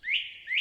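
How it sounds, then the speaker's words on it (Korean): A small bird gives two quick rising chirps, clear and close, with near silence around them. "그리고 어디선가 다시 작은 새의 울음소리가 들려왔습니다."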